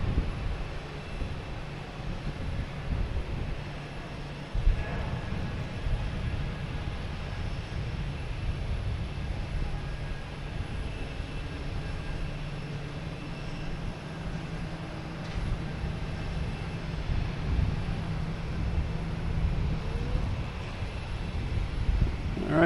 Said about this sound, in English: But first, we have a JetBlue A220